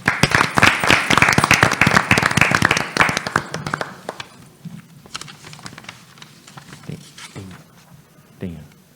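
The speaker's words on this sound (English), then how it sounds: "I would like a round of applause for our new board member officers of 2022." Applause breaks out at a school board annual organization meeting: a burst of many hands clapping loudly for about four seconds, then thinning into scattered claps, shuffling and faint voices.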